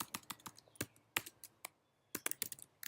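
Computer keyboard keys clicked in quick bursts of sharp taps, with a short pause in the middle, close and fairly quiet, no talking.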